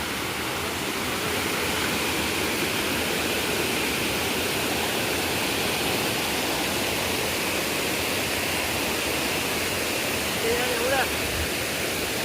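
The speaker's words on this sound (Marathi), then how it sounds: "आता हे धबधबा पडतोय ना हा हे बघा" A forest waterfall near Dhamapur village pours over rocks, making a loud, steady roar of rushing water that holds at an even level the whole time.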